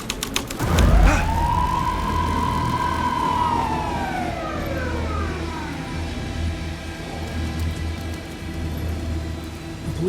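A police car siren wails in Alan Wake 2, one loud rising-and-falling sweep after a sharp thump, then fading and lingering under a steady low rumble.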